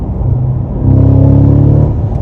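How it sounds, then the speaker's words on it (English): A 2022 Cadillac CT5-V Blackwing accelerating at half throttle, its engine a loud, close, deep growl that swells in pitch and volume for about a second before easing off. "CT5 BlackWing, about half throttle."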